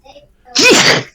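A single loud, close sneeze bursts out after a quiet lead-in, short and explosive with a voiced rise and airy release.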